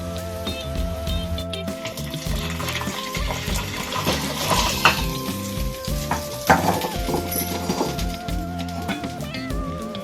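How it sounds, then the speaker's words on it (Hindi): Garlic sizzling hard in hot oil as a tadka for bathua dal, a dense, continuous crackling fry with occasional stirring clinks, close and steady throughout. "तो हम लहसुन का तड़का लगा रहे हैं"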